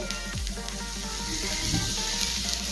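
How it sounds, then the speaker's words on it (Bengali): Ivy gourd and potatoes sizzle steadily as they fry in a pan, with a spatula stirring through them and scraping now and then; the frying hiss runs loud and close for the whole stretch, with no talk. "আবারও নেড়ে চেড়ে নেব। প্রায় 1 মিনিট মতো রান্না করে নেব।"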